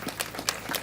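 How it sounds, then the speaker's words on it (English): Short burst of audience applause at a Ministry of Health ceremony commissioning community health extension workers, a brief wash of many hands clapping in a hall. "Let's clap for them."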